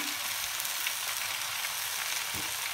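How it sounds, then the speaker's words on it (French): Butter melting in a hot pan while cooking veal Marengo gives a steady, close sizzle and crackle that runs unbroken the whole time with no voices. "Un bout de beurre d'environ 20 grammes qu'on va laisser fondre"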